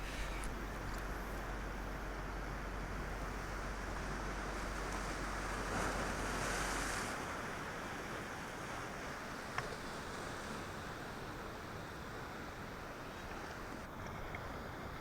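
Ocean surf rolling onto the beach at Innes National Park, a steady broad wash of waves with wind buffeting the microphone, loudest early and settling into a continuous even roar.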